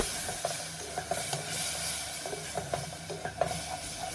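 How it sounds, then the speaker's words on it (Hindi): Peas and yogurt frying in a pan for matar pulao make a steady, close hiss and sizzle, dotted with the light scrapes of stirring. "दही ऐड करने के बाद हम मटर को कुछ देर और भूनेंगे"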